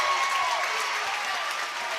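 A high school boys basketball crowd in a gym roars and claps steadily throughout, a dense, sustained wash of cheering and applause with no break.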